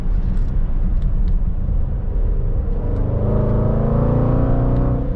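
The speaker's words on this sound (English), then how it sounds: "you still hear that V8, but it's just rather civilized." A tuned 600-horsepower Manhart Range Rover Velar SV V8 on the autobahn, heard from inside as a loud, steady low rumble with a rising engine drone building in the second half.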